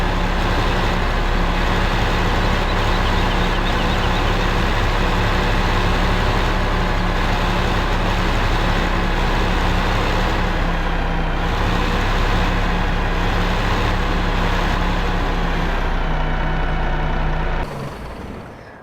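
A modded truck in a farming video game, its engine droning loud and steady for the whole stretch, a constant low rumble with a faint whine that cuts off abruptly near the end.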